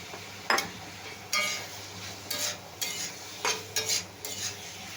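Taro stolons go into a frying pan with spices, bringing a constant background sizzle broken by several loud bursts of stirring and scraping at irregular intervals.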